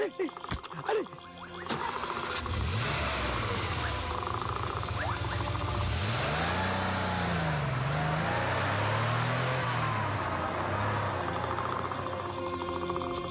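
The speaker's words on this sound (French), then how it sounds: "Je dois démarrer, tout de suite. Dans la voiture, allez." A car engine starts and pulls away, a steady low hum with rising and falling pitch sweeps that swells as it accelerates, holding loud to the end over a constant wash of background noise.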